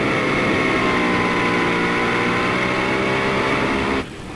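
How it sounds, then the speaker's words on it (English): A top fuel dragster's eight-cylinder engine roars at full power on a drag strip, heard onboard as a loud, sustained harmonic blare that cuts to a lower rumble near the end. "Eight cylinders hooked up and heading down the middle of that racetrack and into the next round"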